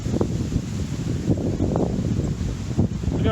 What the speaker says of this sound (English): It might be very windy, so I don't know if you can hear me